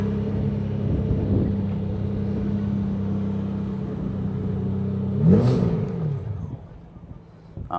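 Porsche sports car at an RWB Porsche meet idles steadily close by, then gives a brief rev around the five-second mark as it pulls in to park, with crowd chatter and voices in the background.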